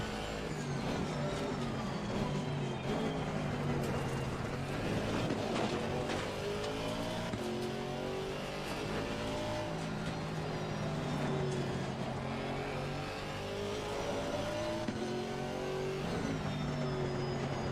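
A race car engine in the Assetto Corsa Competizione racing sim roars continuously, its pitch sweeping up and down through shifts and braking, with occasional tire noise and no voices.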